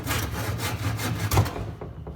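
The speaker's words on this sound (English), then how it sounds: "It's not cut quite all the way through, so we'll finish it off with a handsaw." A handsaw finishes cutting through a wooden bookshelf board in a few quick, close rasping strokes that stop as the cut ends.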